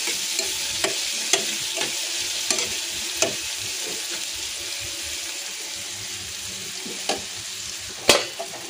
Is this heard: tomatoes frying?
yes